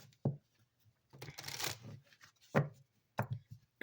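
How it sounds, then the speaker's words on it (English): A Kipper card deck is shuffled close by, with quiet, brief riffles and soft snaps of cards in separate bursts and short pauses between them, and no voices. "let's pull some further messages from the Kipper deck"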